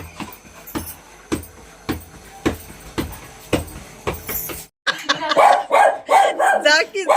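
A dog kept in a basement barks repeatedly in sharp, evenly spaced woofs, then barks continue alongside people talking nearby, loud and close.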